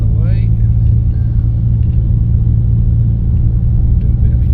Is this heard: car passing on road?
yes